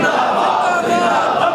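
A large crowd at a religious gathering shouts a slogan in unison, a loud, sustained massed roar of voices that fills the whole moment without a break.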